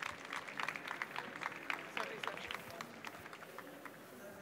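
An audience at a tech conference talk applauds steadily, a dense patter of many hands clapping at moderate distance that gradually thins toward the end, with no speech over it.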